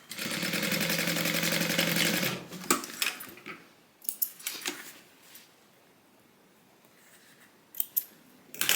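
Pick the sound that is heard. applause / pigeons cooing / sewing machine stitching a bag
sewing machine stitching a bag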